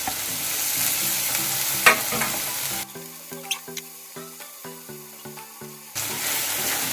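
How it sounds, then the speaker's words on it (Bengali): Chopped tomatoes hit a hot pan in a loud burst of sizzling, then a run of sharp spatula scrapes and stirring knocks, before the steady frying hiss swells back up. "তো এবার আমি টমেটো কুচানোগুলো দিয়ে দেব।"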